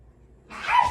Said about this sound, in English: Don't mind the dog in the background.